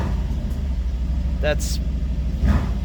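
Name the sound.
Mercedes GLC engine revving with Sprint Booster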